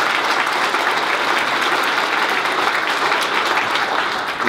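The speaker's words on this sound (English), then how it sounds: "When I raise my left hand, I want you to clap as loud as you can, and don't stop until my hand goes down" Loud, sustained clapping from an audience at a new council's first meeting in Owen Sound, Ontario, a dense unbroken roar of hands that stays strong throughout.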